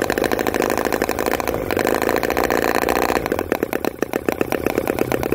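A small engine runs steadily at high speed, a loud, buzzing, rapid firing that continues throughout with slight changes in pitch.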